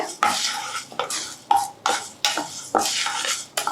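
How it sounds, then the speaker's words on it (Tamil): Horse gram (kollu) roasting dry in a pan, with repeated scraping strokes of a spatula stirring the grains in a steady rhythm, close and clear. "இப்போ இதையும் வந்து நம்ம லேசாக சூடு பண்ணிக்கலாம்"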